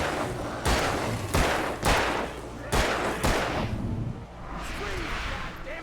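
Repeated loud gunshots from the video game Alan Wake, about five sharp blasts at irregular intervals over a rumbling game soundscape, with a voice speaking in places.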